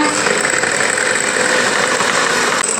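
An electric beater whisks sugar and sunflower oil into batter for a pineapple cake, giving a steady, loud motor whir that runs without a break.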